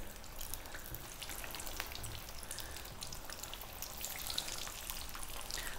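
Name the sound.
potato cakes (aloo tikki) frying in oil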